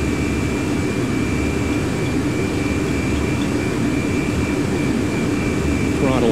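Boeing 737 Classic jet engines roar steadily at takeoff thrust, a dense, constant broadband rumble with a thin high whine running throughout, heard from inside the aircraft.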